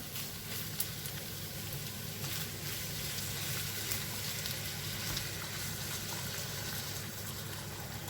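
Hot water poured onto frying eggplant kebab with minced meat sets off a continuous, even sizzle and bubbling hiss, close and unbroken, with no voices.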